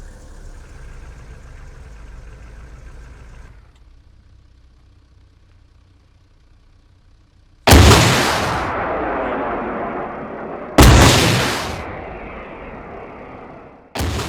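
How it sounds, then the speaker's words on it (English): MLRS rocket artillery in ARMA 3 fires missiles: after a low idling engine hum and a quiet stretch, three loud, sudden launch blasts follow, each trailing off into a roaring, rushing tail. "An MLRS can also launch missiles."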